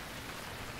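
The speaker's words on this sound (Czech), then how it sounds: "Sice myslím, že skrz tohle nám trochu prší." Rain falls in the survival game Stranded Deep, a dense, even hiss of steady rainfall filling the whole moment with no voices.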